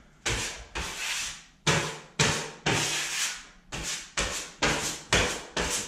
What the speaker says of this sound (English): I'm gonna skim down this one here.